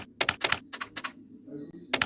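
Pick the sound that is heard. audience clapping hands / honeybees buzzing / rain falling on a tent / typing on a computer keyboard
typing on a computer keyboard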